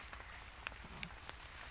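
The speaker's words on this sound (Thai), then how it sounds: "ตอนนี้ฝนตกปล่อยๆนะคะ" Light rain falling in a forest behind a temple, a soft steady patter with a few distinct drips, faint and close, no talking.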